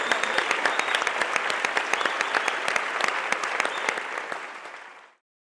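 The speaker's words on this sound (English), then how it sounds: "Can we have one more huge round of applause for every single one of them?" An audience at a public forum on genes and human nature gives the speakers a loud, full ovation, crisp close claps over a dense crowd wash, holding steady and then fading out near the end.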